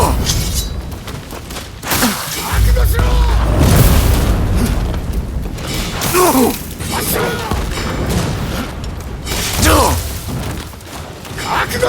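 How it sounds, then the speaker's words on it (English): Cannon blasts in the video game Rise of the Ronin, several loud booms with crackling debris spread across the clip, amid shouting voices and battle noise. "Fire the cannon!"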